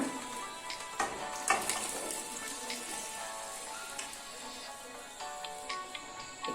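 Boiled raw banana and jackfruit seeds sizzle in a pan for a jackfruit seed and banana curry, a steady moderate frying crackle with a few sharper pops and no talking.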